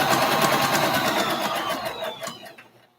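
A sewing machine back stitches a boxy bag, a steady fast whirring run of stitches that holds close and loud, then slows and fades toward the end.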